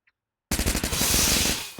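In a battle royale video game, automatic gunfire starts after a short silence as rapid staccato bursts that merge into a sustained, loud volley before easing off.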